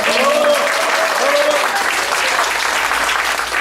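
An audience at a club meeting applauds, a dense, loud, continuous wash of clapping close by, with a voice speaking briefly over the start.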